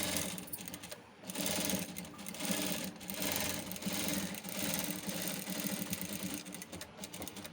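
Sewing machine stitching thread piping, a fast continuous mechanical whirr with short pauses and restarts, close and steady with no voices.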